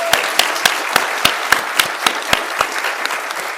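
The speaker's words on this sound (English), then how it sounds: "A round of applause for Quinton Smith, please." Audience at a live podcast recording at the SHUX convention claps for guest Quinton Smith, with sharp, evenly spaced claps standing out over a close, steady bed of applause.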